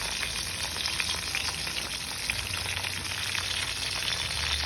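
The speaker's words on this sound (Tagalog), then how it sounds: "Ikot-ikutin nyo lang po para di masunog, hindi tumigas." Homemade fried rice sizzles steadily in a hot pan while being stirred, a close, continuous crackling with faint scraping and no talking.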